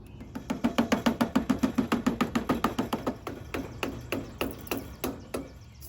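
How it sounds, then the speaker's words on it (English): A putty knife is hammered against a glued part on a Briggs and Stratton engine during a head gasket replacement on a John Deere riding mower. About two dozen sharp, close taps come in a quick, steady rhythm and ease off slightly toward the end. "we're gonna use a putty knife or something to kind of hammer this part off"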